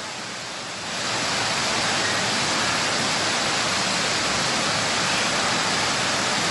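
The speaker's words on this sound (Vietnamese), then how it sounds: "càng ngày càng mưa to thôi, có tạnh được đâu." Heavy rain pouring during flooding in Ha Giang, Vietnam, a dense loud roaring hiss that swells after the first second and holds steady with no voices.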